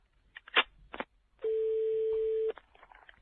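A telephone call being placed: a steady electronic tone rings out alone for about a second after a few short clicks and handling noises, with no talking.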